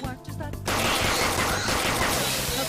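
Dense, sustained gunfire erupts from a gun in the video game WakeWilder after a brief voiced lead-in, a loud continuous burst of rapid shots filling the rest of the moment.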